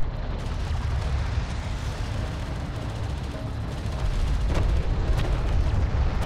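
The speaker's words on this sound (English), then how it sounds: "Light attack vehicle is under fire." Distant combat fire in the real-time strategy game Homeworld: Deserts of Kharak, a continuous rumbling wash of artillery and gunfire with scattered faint pops and booms, steady and moderately loud.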